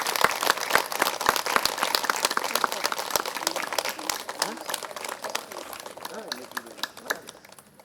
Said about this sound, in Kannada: ಒಂದ್ಸರಿ ಜೋರಾಗಿ ಚಪ್ಪಾಳೆ